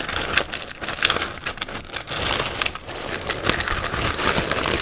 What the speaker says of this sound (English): I'm going to add some crushed ice to my glass.